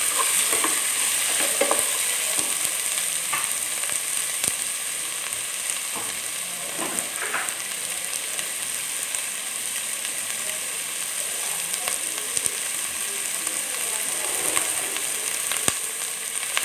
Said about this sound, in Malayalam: നമ്മുടെ ഉള്ളി ഒന്ന് വഴന്ന് വരട്ടെ.